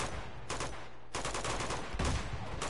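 Rapid gunfire crackles in bursts during an Uncharted 2: Among Thieves firefight, with several sharp automatic volleys separated by brief pauses, fairly distant and muted.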